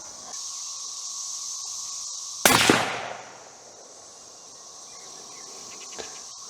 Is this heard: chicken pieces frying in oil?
no